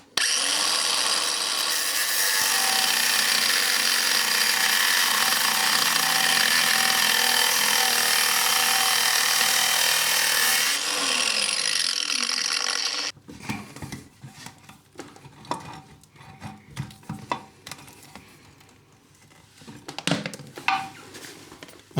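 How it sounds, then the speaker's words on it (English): A cordless angle grinder slices through the nut on a close-coupled toilet cistern, a loud steady high-pitched whine for about eleven seconds that then cuts off, followed by scattered clicks, knocks and scraping handling noises. "we're going to get the cordless angle grinder and we're going to slit up the nut"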